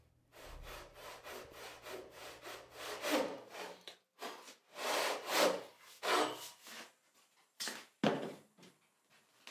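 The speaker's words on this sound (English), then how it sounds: "he picks up his Roubo saw again and starts sawing from the other side" Rhythmic rasping strokes of a Roubo frame saw resawing a wooden board by hand, a quick run of short strokes followed by longer, louder pushes with brief pauses between, close up and without talk.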